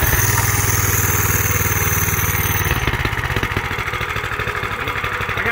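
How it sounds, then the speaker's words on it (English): Manco Dingo go-kart fitted with a bigger engine idling right after starting, a steady close putter with regular pulses, slightly rougher and lower partway through. "It should idle right up."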